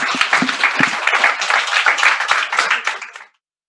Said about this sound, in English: So let's welcome Alokji with a lot of claps and joy.